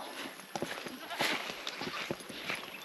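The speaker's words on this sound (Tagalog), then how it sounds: "Mga kambing natin o." Goats foraging on a dry farm field give a few short, moderately faint bleats over a steady outdoor hiss, with light rustling and scattered soft knocks in between.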